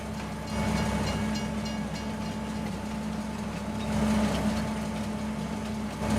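Grain train in the video game Farming Simulator 25: a steady, continuous rumble of a moving train with a faint rolling drone, moderately loud and even throughout, no talk.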